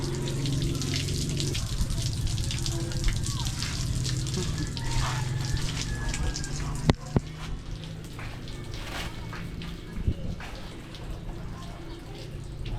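Water runs steadily from a tap, a continuous gushing splash with occasional clinks and knocks in the background.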